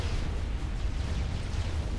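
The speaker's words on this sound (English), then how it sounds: "They blew up one of my ships." Ship blowing up in the real-time strategy game Supreme Commander, a dense rumbling explosion roar that sustains evenly for about two seconds at strong volume.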